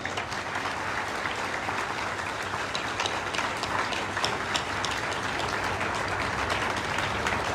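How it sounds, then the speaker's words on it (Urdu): Steady, full applause from a large audience at an MOU signing ceremony between the Sindh governor's IT initiative and Karachi University, dense and even throughout with no voices over it. "بہت زوردار تالیاں"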